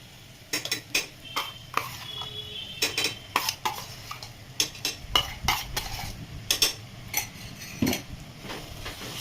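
A roasted onion, coconut, ginger and garlic masala paste is stirred and sautéed in oil for a village chickpea curry, with irregular sharp metal clinks and scrapes of a spoon against the pan over a faint sizzle.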